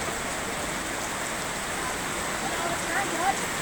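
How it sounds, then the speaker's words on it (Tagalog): Steady rain hisses evenly throughout, with a faint scattering of bird-like chirps near the end. "Ayan at umuulan uli ngayon."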